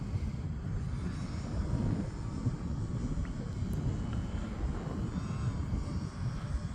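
A UMX Turbo Timber RC plane flies in wind at about half throttle. It gives a faint, steady motor drone mixed with gusty wind noise, heard without any talking.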